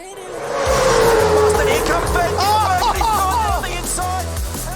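Supercars Championship race cars roar loudly at the 2014 Bathurst 1000, with tires squealing in rising and falling whines over the sustained engine noise. Commentary-like talk runs underneath.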